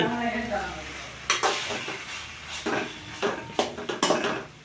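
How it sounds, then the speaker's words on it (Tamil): Macaroni in tomato masala is stirred in a pan, the spoon scraping and knocking against the metal in a few sharp strikes over a low, continuous sizzle. "மேக்ரோனி குழையாமல் நன்றாக கிளறி விடவும்."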